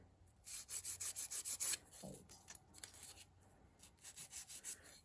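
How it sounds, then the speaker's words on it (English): Infilled fingernails are shaped with a nail file, giving quiet, rhythmic rasping strokes in short bursts with brief pauses between runs. "I'm just going to do a bit of filing"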